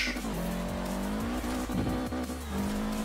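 A retro rally car drifts in the video game Forza Horizon 4, its engine droning steadily under a loud, sustained tire squeal that rises and shifts in pitch through the slide.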